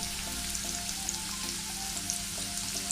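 Sliced onion frying in a pan, an even continuous sizzle with faint crackles, close and steady throughout, no talk.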